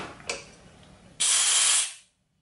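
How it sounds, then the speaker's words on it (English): Compressed air leaking around a nozzle fitted to the fuel line of a Western Auto 5 hp boat motor, a brief faint puff followed by a close, strong hiss lasting under a second before cutting off to silence. "That's just the air leaking on around it."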